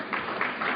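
Audience clapping at a talk on psychiatry and mind control, a steady broadband patter of many hands with a few swells, fairly close and filling the whole moment without voices.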